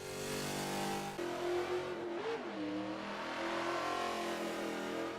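A 1971 AMC Javelin AMX muscle car engine in the Forza 7 racing game on the Road America circuit, revving hard with rising and falling pitch sweeps as it accelerates and shifts, loud and continuous.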